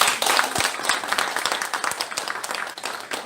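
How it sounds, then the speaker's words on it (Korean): A lecture audience at a children's book author talk claps in a close, lively burst of individual hand claps that stays fairly dense for a few seconds, with no talking over it. "오해란 저자님께 한 번 더 큰 박수 부탁드리겠습니다."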